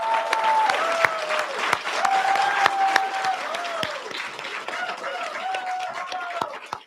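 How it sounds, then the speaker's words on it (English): An audience at an undergraduate three-minute research paper competition claps steadily for the participants, a dense, sustained round of applause throughout. "let's give all of the participants another round of applause"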